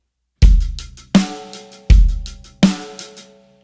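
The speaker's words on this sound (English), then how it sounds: "Kick on 1 and 3, snare on 2 and 4, sounds like this." A drum kit plays a simple backbeat, kick drum on beats one and three and snare on two and four, four crisp loud hits that ring out cleanly with no other sound.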